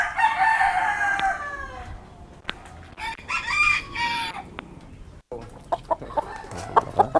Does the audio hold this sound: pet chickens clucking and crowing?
yes